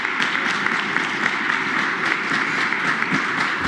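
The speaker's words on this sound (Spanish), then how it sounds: "Muchas felicidades, un aplauso." Sustained applause from a room full of people at a Mexican presidential press conference, many hands clapping steadily and fairly close, a few sharper claps popping out.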